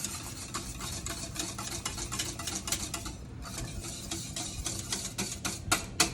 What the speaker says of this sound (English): we want to cook it again like the pastry cream for about a minute, stirring vigorously so nothing has a chance to sit on the bottom